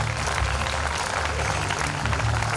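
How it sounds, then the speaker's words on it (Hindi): Audience at a book launch in India clapping together, a dense and continuous roar of applause over a low hum of the hall, sustained and fairly loud throughout. "आप तालियां बजा सकते हैं।"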